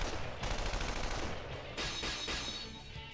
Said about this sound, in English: I am met with barricades and heavy artillery.